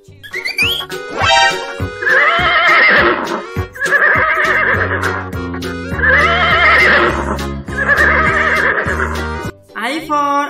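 A horse whinnies repeatedly, several long shrill neighs in a row over a steady background, with a brief voice at the start and end.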